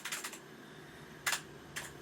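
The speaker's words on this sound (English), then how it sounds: "don't try to guess the passcode based on what I'm typing" Fingers type a passcode on a computer keyboard in a few quick bursts of soft key clicks separated by pauses, close and faint, with no talking.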